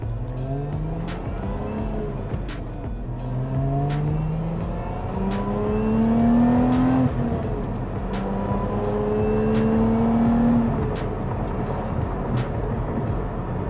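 Lotus Emira sports car engine pulling hard while driving, rising harmonic revs sweeping up through several gear changes, loud and steady inside the cabin with no talking.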